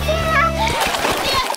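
A person falls into a backyard swimming pool with a splash, splattering water sounds following a brief stretch of voices, with people talking and children's voices around.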